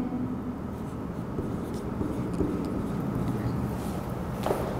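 Pen writing numbers on a surface during a Turkmen-language math lesson, a steady soft scratching that runs continuously at moderate level with faint room noise, no voices.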